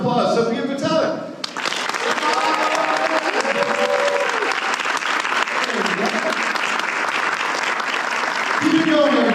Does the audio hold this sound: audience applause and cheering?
yes